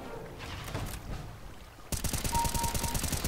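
Rapid automatic gunfire from a Counter-Strike: Global Offensive deathmatch kicks in abruptly after a quieter stretch, a dense, loud stream of evenly spaced shots.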